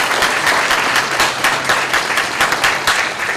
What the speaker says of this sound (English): Can we give them a hand of applause?